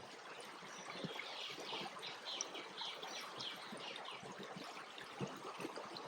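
Birds chirp and call steadily from a Mexican jungle, with a trickling stream of water running underneath, the whole scene soft and fairly distant with no voices.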